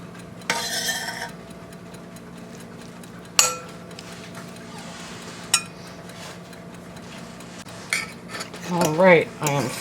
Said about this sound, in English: I am fluffing my stuffing with the fork